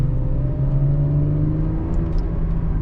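Chevrolet Camaro V6 with an automatic transmission cruising in normal drive, a steady mid-pitched engine drone and road rumble from inside the car, with no talking.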